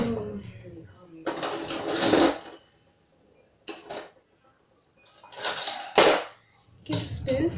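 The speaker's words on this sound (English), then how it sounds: "get a spoon, and then you start mixing" A spoon stirs and mixes slime in a bowl, making bursts of wet clicking and scraping against the bowl separated by short pauses. The sound is close and moderately loud, and a voice speaks between the stirring bursts.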